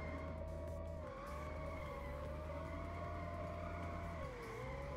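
Jaguar E-Type engine in a racing video game, a steady aggressive drone held at high revs with slight pitch dips as it shifts or turns, loud and continuous with a tire-skid edge.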